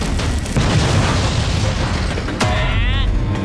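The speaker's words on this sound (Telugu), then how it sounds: "అది ఫిరంగి గుండు, దాన్ని బయటికి తోచాయి" A cartoon cannon fires a cannonball: a loud, rumbling boom fills the scene, then a sharp burst is followed by a wavering whistling tone.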